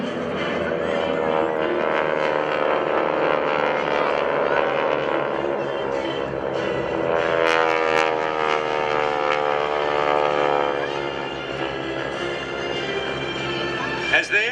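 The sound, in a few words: propeller aircraft of the GEICO Skytypers flying overhead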